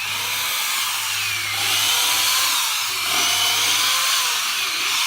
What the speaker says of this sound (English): we have to pre-drill every one of the holes because the old is wood and a little brittle